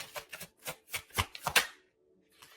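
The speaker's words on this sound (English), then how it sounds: "I'm going to put it back. I'm going to ask again." Tarot cards being shuffled by hand in a string of seven crisp riffling bursts, close and fairly loud, followed by a short pause and one fainter shuffle.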